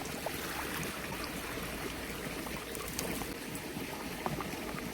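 Water streams continuously into a pesticide sprayer pump tank being filled for spraying a pigeon pea crop, a steady, moderately faint gushing trickle with no voices.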